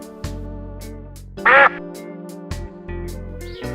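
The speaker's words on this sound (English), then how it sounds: "Duck." Toy duck sound effect from a farm animal learning set: a single loud, brief quack burst over a steady background music bed.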